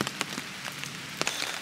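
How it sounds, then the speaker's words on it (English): Heavy rain falls on a seaside fishing spot, a dense continuous patter with several sharper drop impacts standing out now and then, steady and close with no talking. "it is still raining quite hard"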